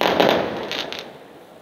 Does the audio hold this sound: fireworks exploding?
yes